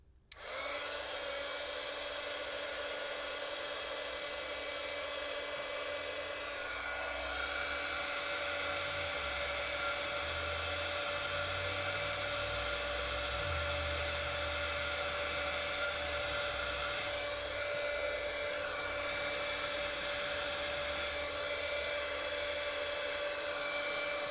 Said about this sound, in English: make sure that your heating tool is hot before you try to do this, otherwise it's going to blow it right off the page